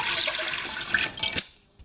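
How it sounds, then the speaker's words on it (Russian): Milk poured into a bread machine pan for dough, a steady liquid splash and trickle for about a second and a half, then it stops and goes quiet. "Первое, там нужна вода, но мы все добавляем молоко."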